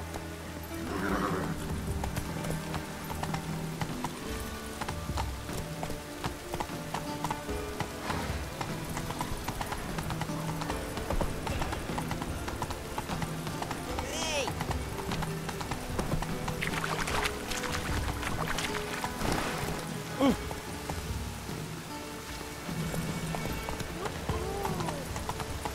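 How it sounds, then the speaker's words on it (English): Roach the horse gallops in The Witcher 3, hooves clip-clopping in a continuous rapid rhythm with occasional neighs, under game music and effects while someone talks intermittently. "Come on, Roach."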